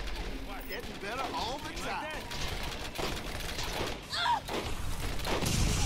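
Gunfire from the video game Borderlands, scattered shots and thumps amid game noise and effects, with someone talking over much of it.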